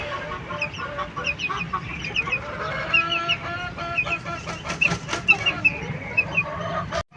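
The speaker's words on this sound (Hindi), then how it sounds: "बहुत अच्छी नस्ल का मुर्गा है जी" An Aseel rooster, a fine-bred fowl with a full tail, clucks repeatedly and steadily at close range, short bursts recurring throughout with no one talking.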